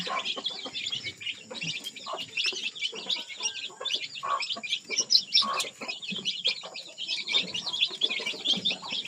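Rhode Island chickens cluck and chirp continuously at close range, a busy overlapping chorus of short high calls with quiet pauses between bursts.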